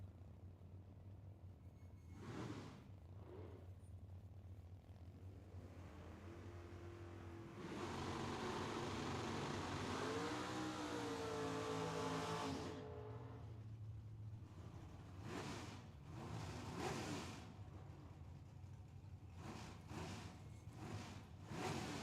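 Drag racing cars, a Camaro with a stroker small block and a Pontiac, at Tucson Dragway, heard as a steady engine rumble that swells into a loud revving pass, then drops back to idling burbles and crowd noise.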